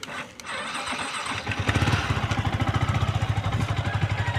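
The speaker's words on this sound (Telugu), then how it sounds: "ఒకసారి బైక్ అయితే స్టార్ట్ అయితే చేసి చూసుకుందాం." Yamaha R15 V4 motorcycle engine starting: a brief cranking noise, then the single-cylinder engine catches and settles into a steady, close idle with a rhythmic pulsing throb.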